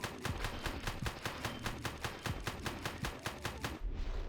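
Rapid gunfire as a sound effect: a fast, even burst of about twenty sharp cracks, each roughly a fifth of a second apart, fairly faint overall, ending abruptly.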